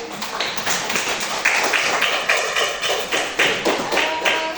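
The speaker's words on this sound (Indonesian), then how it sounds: "Beri aplaus satu kali." Classroom applause from a group of students, a dense burst of many hands clapping together that swells and pulses for several seconds, fairly close and loud with no talking over it.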